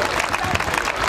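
An audience at a school annual day claps for pre-nursery children, a short dense burst of steady applause from a crowd.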